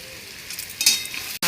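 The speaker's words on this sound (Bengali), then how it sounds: "এবার পেঁয়াজটা লাল করে ভেজে নেবো আলুর সাথে" Potatoes and onion fry in a pan as chopped tomato goes in, a close steady sizzle that briefly swells with stirring before a sharp cut.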